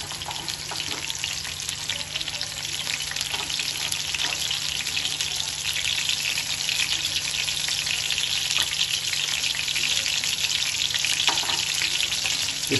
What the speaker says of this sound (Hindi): घी डाल देते, इसमें टमाटर और प्याज